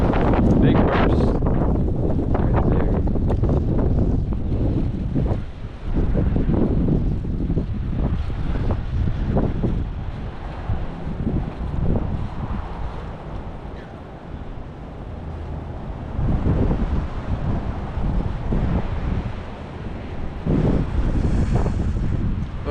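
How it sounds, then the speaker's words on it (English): Strong wind gusts during a windstorm in the Ohio Valley roar across the microphone in repeated surges and lulls, loud and buffeting, with a faint voice now and then. "This is one windy day."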